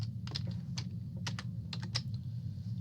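Someone types on a computer keyboard with irregular bursts of close, crisp keystrokes, some quick and some spaced apart. A steady low hum runs underneath, and no one speaks.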